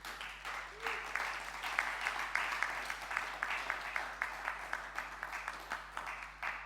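A church congregation at a French-language worship service applauds the Lord with steady, rhythmic clapping that carries at moderate level through the whole stretch; no clear cheering stands out.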